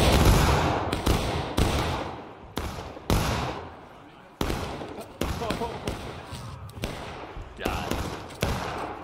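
Rifle volleys and scattered musket shots crack repeatedly in a War of Rights battle, sharp loud bursts each trailing off in a rumbling decay, with voices shouting between the firing.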